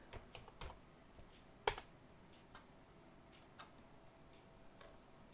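Keys typed on a computer keyboard while entering a password during a Windows password reset, heard as sparse, faint clicks spread over a few seconds with one sharper keystroke.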